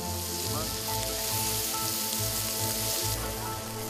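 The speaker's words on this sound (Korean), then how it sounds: "지글지글 구워지는 한우." Korean hanwoo beef sizzles on a grill at a restaurant, a steady dense crackling and hissing that stays loud throughout, with some background music or hum.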